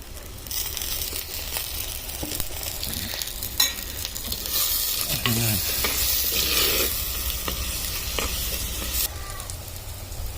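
Garlic drops into hot oil in a village kitchen while a green onion curry is being made, and a strong, even sizzle runs throughout with occasional crackles and stirring scrapes, close and loud.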